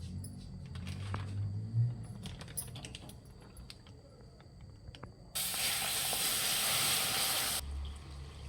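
Milk poured into ready, hot caramel while making sweet curd, first scattered clicks and light clatter, then a sudden loud, steady hiss of steam that holds for a couple of seconds before dropping away, close and with no talking.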